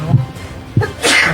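Two short sneezes, the second louder and followed by a sharp breathy burst, close to the microphone with faint background murmur.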